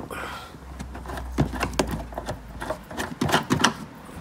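The tail light bulb holder on a VE Commodore or Chevrolet Lumina is unscrewed up close, giving quick irregular plastic clicks and scraping bursts.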